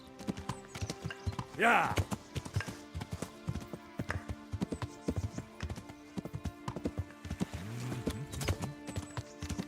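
Horse hooves clip-clopping in a steady trot in the video game Kingdom Come Deliverance, close and regular, with a snort and a brief spoken word.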